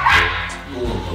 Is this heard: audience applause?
no